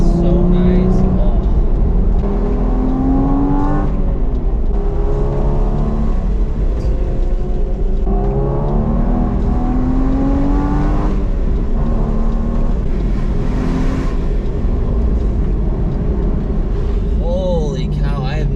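A Porsche Cayman S engine drones from inside the cabin as the car is driven through corners, its pitch repeatedly rising and dropping with gear changes while the driver talks over it.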